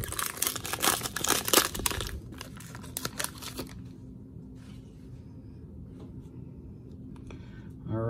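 Marvel Fleer Ultra trading card packs being ripped open, a loud burst of crinkling foil wrapper and tearing for a few seconds, then quieter card handling and soft rustles.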